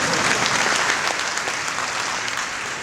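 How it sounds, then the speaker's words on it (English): Audience at the African Mining Indaba conference in South Africa bursts into steady, dense applause, many hands clapping together loudly and evenly throughout, with no talk over it. "You can clap in."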